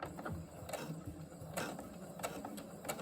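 A sewing machine stitches through half-inch elastic on a Dollar Tree bandana headband, giving a steady, close mechanical clatter with sharper periodic knocks as the needle punches the elastic. No one talks.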